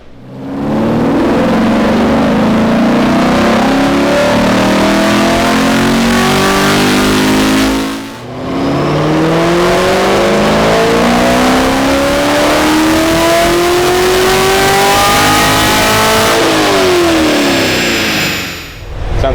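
A Chevrolet Camaro 1LE with an ARH full exhaust revs hard in two long pulls, its engine note climbing loud and close before easing off, with a brief dip between them and no voices.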